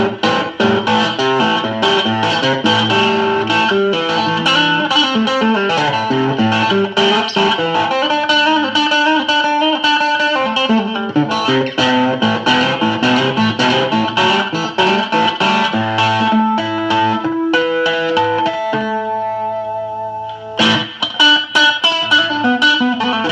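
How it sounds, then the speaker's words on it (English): A humbucker-equipped Aroma de Cuba cigar box guitar plays a continuous bluesy riff with light crunch from a Blues Driver distortion pedal into an old 1948 Valco tube amp of about 10 watts. It is loud and close, with no talking. "I'm going to turn on a little bit of distortion here, not too much. Give it just a little bit more crunch."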